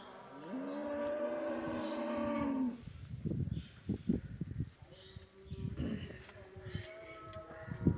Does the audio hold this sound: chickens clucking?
no